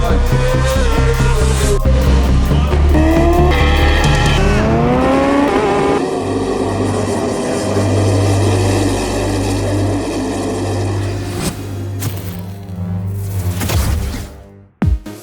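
Superbikes race at Canadian Tire Motorsport Park, their high-revving engines screaming loudly past with rising and falling pitch through gear changes before the noise drops away near the end.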